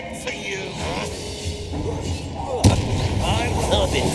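Confringo blasting spells go off in Hogwarts Legacy combat, a sharp explosive crack standing out among dull booms and continuous battle noise, with character voices talking over it.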